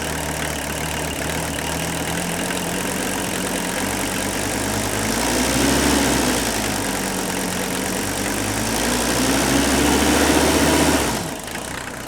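An old diesel engine idles rough and a little shaky, with weak glow plugs suspected, giving a steady close low rumble with uneven knocking that swells slightly twice before cutting off near the end.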